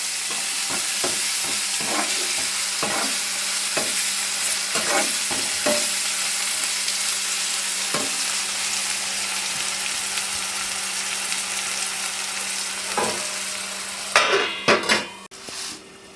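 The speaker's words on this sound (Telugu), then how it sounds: "ఇప్పుడు ఇది కూడా కొంచెంసేపు ఫ్రై చేసుకున్నాం" Two chopped medium tomatoes fry in a pan for a murrel fish curry, a steady loud sizzle broken by repeated scraping stirs and metal utensil clinks, with a cluster of louder knocks near the end.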